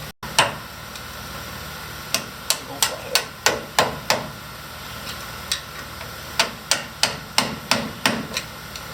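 Metal hammer blows drive a brake caliper pin out of a 1997 Ford F350 Power Stroke: roughly seventeen sharp, close ringing strikes, first a single hit, then quick runs of blows separated by a pause.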